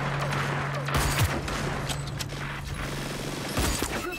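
Gunfire from the video game Hyper Scape: sharp broadband shots crack out in a dense, busy fight, with bursts near one and three and a half seconds over a steady hum and clatter of game sounds.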